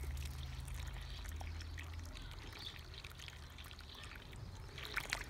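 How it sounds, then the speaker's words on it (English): Water poured into a planting hole for Scarlet Emperor runner beans on an allotment, a steady close trickling pour running alone for several seconds without talk. "So we pour that into the hole."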